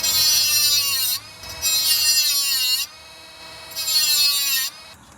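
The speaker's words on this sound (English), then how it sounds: "So currently trying to drill these bolts out and put the alternator back on." A power drill bores out broken alternator bolts in an engine block, running in three sustained high-pitched bursts with short pauses between them, loud and close with no talking.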